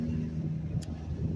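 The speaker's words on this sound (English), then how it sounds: "It's windy. There's a lot of traffic." Outdoors on a windy day near busy traffic: a steady low rumble of passing vehicles blends with wind buffeting the microphone, continuous and fairly loud, with no talk.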